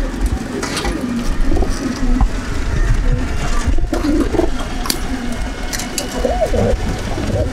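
Pigeons at a loft in Kuli, Murshidabad coo in low, repeated calls, close and continuous over rustling and background noise, with a brief bit of muffled talk.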